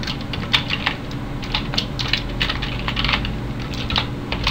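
Typing on a computer keyboard, a steady run of quick close key clicks over a low background hum, no one speaking.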